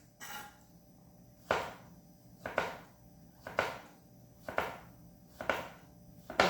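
A knife cuts candied lemon peel into small pieces on a board, giving six crisp chops spaced about a second apart, close and clear against a quiet background.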